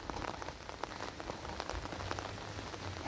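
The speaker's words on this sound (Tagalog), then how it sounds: "maganda yung lumalakas yung ulan ba" Steady rain patters densely on surfaces close by, with scattered sharper drops in a constant hiss and no voices.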